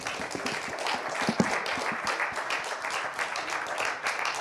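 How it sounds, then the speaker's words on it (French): Conference audience at a biodiversity round table applauding, a sustained, even patter of many hands clapping across the whole stretch, moderately loud. "On peut les applaudir."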